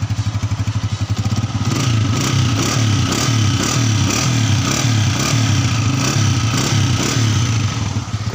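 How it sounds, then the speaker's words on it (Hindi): A 2010 Honda 125 motorcycle starts and idles nearby, a loud steady single-cylinder chug with a regular thumping pulse and no talk over it. "तो अभी मैं आपको ये बाइक स्टार्ट करके दिखाने लगा हूँ।"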